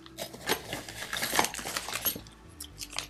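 Small metal Allen keys and screws from a Wyze thermostat box rattle and clink together in a series of light, quick jingles and taps, close and fairly quiet, with no talking.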